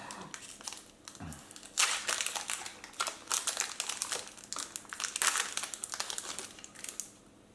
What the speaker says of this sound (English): Love the sound of that pack opening.